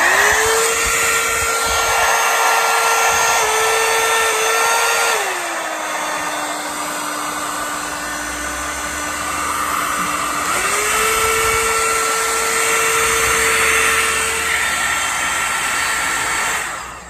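A Britânia Soft BES13VD hot air brush dryer runs with a loud, steady whine and airflow roar, its pitch dropping midway as the speed changes, then rising again before it shuts off.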